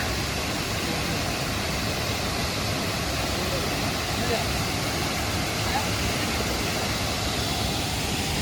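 The Nohkalikai waterfall roars with a dense, steady rush of falling water that fills the whole scene without a break, loud and close.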